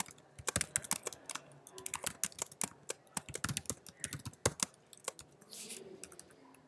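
Fast, irregular tapping on a computer keyboard while entering programming code, close and crisp, with bursts of keystrokes and brief pauses between them and no speech.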